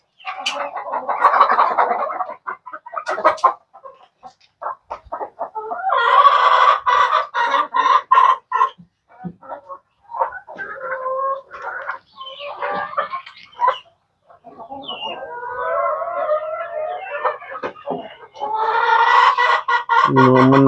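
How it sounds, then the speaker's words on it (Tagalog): Backyard chickens clucking and squawking in bursts as two hens scuffle, loud nearby calls separated by brief quiet gaps, with agitated cackling rising again toward the end. "Tingnan nyo guys, yung may nag-aaway pa dalawa."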